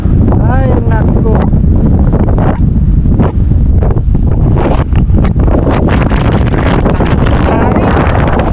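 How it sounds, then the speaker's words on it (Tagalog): Strong coastal wind buffets the microphone with a loud, continuous roar near the sea, while a person talks intermittently underneath the gusts. "Habang malakas yung hangin, tuloy na yung trabaho natin."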